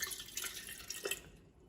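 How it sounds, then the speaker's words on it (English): A little room-temperature water is poured into an empty Coke can, giving a light trickling, dripping splash that tapers off toward the end, with no speech. "you're going to pour in just a little bit of water into the can"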